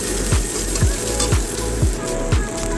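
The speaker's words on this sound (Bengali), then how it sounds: "এবার বেঁচে যাওয়া তেলে আরও 1 চামচ তেল অ্যাড করে দিয়ে দিলাম রসুন কুচি এবং লঙ্কা কুচি" Chopped garlic and chilli fry in hot oil on high flame, a loud steady sizzle close by with regular thumping knocks about every half second as the pan is worked.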